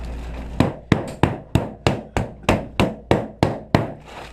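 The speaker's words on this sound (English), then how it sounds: "It's all I really need, just to pound down the butter." A wooden 2x4 pounds down a block of butter for croissant and Danish dough, eleven sharp, evenly spaced thuds landing about every third of a second, close and distinct, with no talking.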